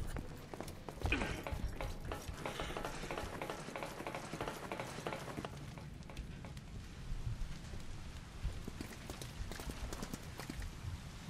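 Soft rain hisses and patters steadily across a forest cemetery level in Resident Evil 6, faint and continuous with scattered drop-like ticks.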